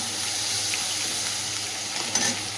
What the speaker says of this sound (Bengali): চিংড়ি মাছটা ভেজে নিয়েছি